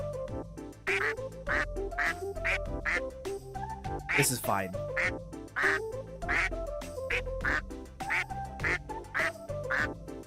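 Repeated cartoonish duck quacks from the Monster Prom video game play in a steady rhythm under music, while a person speaks briefly over them.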